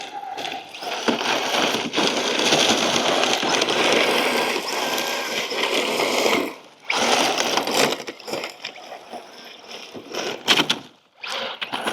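An MJX Hyper Go 7303 1/7-scale 4WD brushless RC rally car doing full-throttle drifts, a loud sustained high motor whine with tire scrabble, briefly cutting out and surging again in short bursts near the end.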